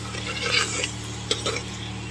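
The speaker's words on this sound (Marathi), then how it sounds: "हे बघा, असं छान फ्राय होत आलं आपला मसाला." Masala frying in oil and ghee in a pan for prawn biryani, a steady low sizzle with occasional scraping clinks of a spoon against the pan.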